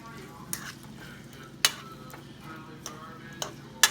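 Potatoes frying in vegetable oil with green pepper and onion, a soft steady sizzle under a spoon scraping and stirring in the pan, with a few sharp clinks of utensil against the pan.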